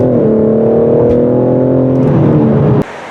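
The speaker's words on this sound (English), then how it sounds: "And I'm very impressed with this engine power." A 2021 BMW M4 Competition engine revs hard under acceleration, a loud, rising mechanical roar held for nearly three seconds before cutting off abruptly.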